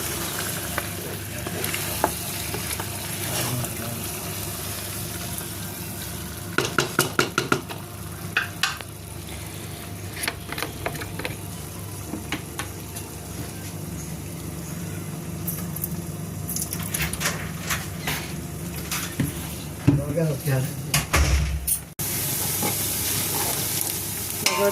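Chicken pieces roasting with onions in a pan for pulao give a steady close sizzle, with occasional clattering stirs and scrapes; no one speaks.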